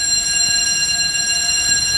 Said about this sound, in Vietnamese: Tập thôi, đang tập để mà báo cháy, phòng cháy chữa cháy.